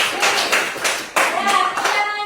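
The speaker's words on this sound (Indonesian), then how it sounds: "tepuk tangan untuk Mikael" Brief clapping for a child named Mikael in a classroom lesson, a short burst of overlapping hand claps from a small group, fairly close and lively, in uneven waves.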